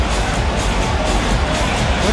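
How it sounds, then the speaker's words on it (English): A packed arena crowd gives Kobe Bryant an ovation during his final game, a dense, steady roar of cheering and applause that fills the space without letup. "And he gets his ovation right here."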